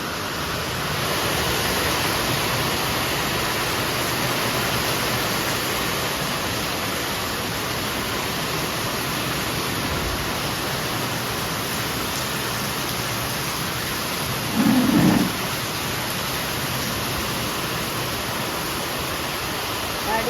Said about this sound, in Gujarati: વરસાદ આવ્યો આવ્યો તો ખરા આ ને દિવસે આવી ગયો વરસાદ